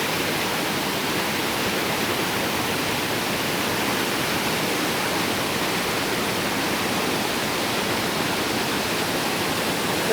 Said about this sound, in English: There's a drop-off and a waterfall to our left right there